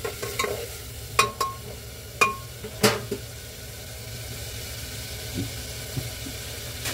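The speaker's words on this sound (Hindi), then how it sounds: "ये मसाला मेरा भी भून रहा है" Spice masala frying in a pan for tinda sabzi, a soft steady sizzle under sharp scraping clinks of a spoon stirring, several distinct knocks early and then quieter stirring.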